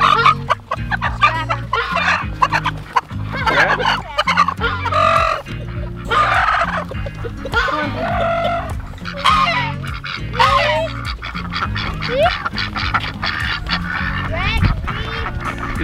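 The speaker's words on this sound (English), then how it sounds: "You got a chicken there?" Chickens clucking and squawking in a backyard flock, repeated bursts of loud, close cackles running throughout while someone talks over them.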